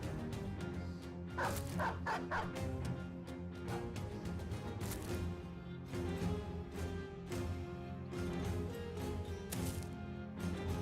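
Dogs in a video game bark, yip and whimper over and over, close and loud above a dense, steady game background.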